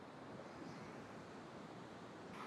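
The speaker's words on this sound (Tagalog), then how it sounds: "Kasi ang lalaki mga alon, no?" Large ocean waves break on a Philippine beach, making a steady, loud roar of surf mixed with wind noise that carries on without a pause.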